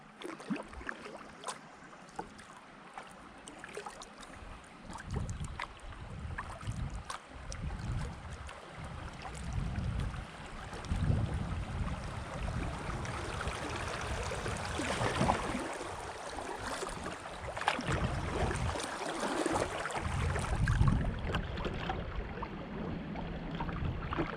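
A kayak paddles down the Gunpowder River, with continuous rushing water and splashing paddle strokes close by, buffeted by wind noise on the microphone and no talking.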